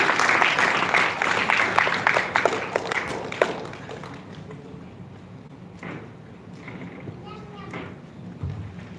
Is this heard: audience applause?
yes